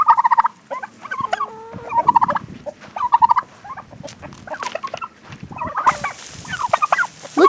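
A flock of turkeys gobbles in a yard among chickens, with bursts of rapid, rattling gobbles repeating every second or so, close and loud, with scratching and patter between calls.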